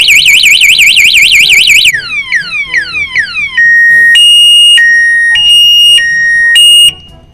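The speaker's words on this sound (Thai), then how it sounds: "เวลาเขาแทงเบ้าปิดปุ๊บแล้วมันจะดังแล้วก็ไฟมันจะตัดเลย" Motorcycle anti-theft alarm going off when the ignition is tampered with: a loud, close electronic siren that first warbles rapidly, then sweeps downward in repeated chirps, then alternates between two steady piercing tones before cutting off.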